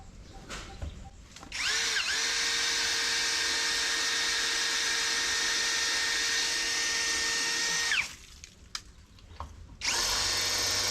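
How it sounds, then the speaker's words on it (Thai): A Masaru SCDH-125 cordless impact drill in hammer mode, fitted with a 5 mm masonry bit, bores into concrete with a loud, sustained whining grind for about six seconds, pauses, then starts again. "สว่านกระแทกไร้สายของมาสรุตัวนี้ ที่ดอกที่ผมใช้เนี่ยจะเป็นดอกขนาด 5มิลครับผมเป็นดอกสำหรับเจาะปูน"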